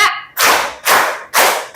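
Three loud, evenly spaced group claps from children in a primary school classroom playing a Simon Says counting game, each a sharp burst of many hands that fades quickly before the next.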